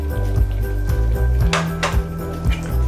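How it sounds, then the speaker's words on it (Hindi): A spoon stirring garam masala into shahi paneer in a pan, giving soft scraping and light clinks in an irregular rhythm, close and fairly loud, with no talk. "और इसे अच्छी तरह से मिक्स कर लेंगे।"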